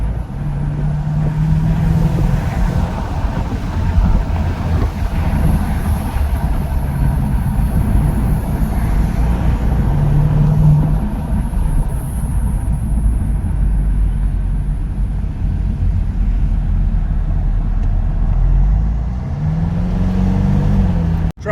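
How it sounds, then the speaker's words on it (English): Ford rental car's turbocharged engine pulling hard under acceleration on a highway, a steady, loud low-frequency drone of engine and road noise with rising turbo whine that holds for about twenty seconds, no voices. "I'm gonna try and capture this turbo noise again."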